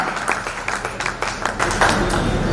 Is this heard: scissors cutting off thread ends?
no